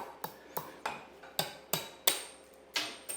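Masonry nails snapping off a wall during kitchen demolition: a series of about eight sharp metallic cracks and knocks, irregularly spaced and fairly close, each with a short ringing tail over quiet room tone.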